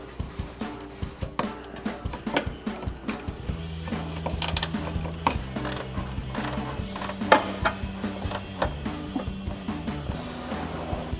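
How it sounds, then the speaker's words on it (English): A 10mm ratcheting wrench tightens a headlight bolt on a 2016-2018 Chevrolet Silverado 1500, giving a quiet run of quick clicking ratchet strokes in irregular bursts, close and soft with no speech. "And I'm going to take a 10mm ratcheting wrench and tighten that down."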